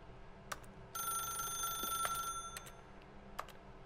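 A telephone rings in The Stanley Parable: Ultra Deluxe video game, a steady electronic bell tone sustained for about two and a half seconds, preceded and followed by a few brief clicks, fairly loud against a quiet background.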